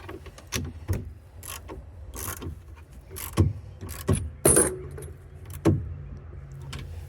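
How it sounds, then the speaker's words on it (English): A ratchet wrench works to snug down the clamps of a hard tonneau cover on a GMC Sierra EV pickup bed, giving short metallic clicks and clanks in scattered bursts, close up, with no talking. "Grab our ratchet."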